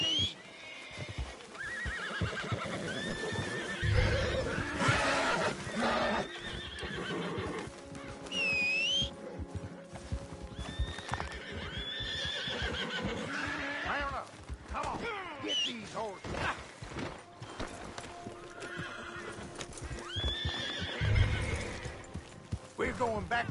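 Horses in Red Dead Redemption 2 on PS5 neighing and whinnying repeatedly at close range, with hoof clops and shuffling, under intermittent talk.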